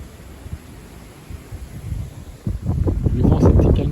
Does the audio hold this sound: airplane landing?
no